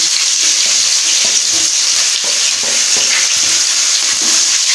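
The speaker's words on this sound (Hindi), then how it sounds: "तो अभी हम इसमें प्याज डालते हैं।" Chopped onions sizzle steadily in hot cooking oil for a vegetable macaroni dish, a dense, close frying hiss with light crackles that holds at an even level for a few seconds, with no voices.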